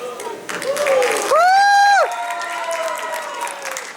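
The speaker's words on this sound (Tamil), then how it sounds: "என்ன ஸ்பெஷல் கைத்தட்டல் உங்களுக்கு வருது?" Audience applause and cheering at a Tamil stage talk show featuring married couples, with dense clapping and a loud rising whoop or whistle cutting through the middle.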